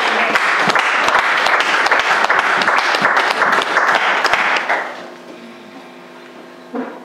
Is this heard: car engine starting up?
no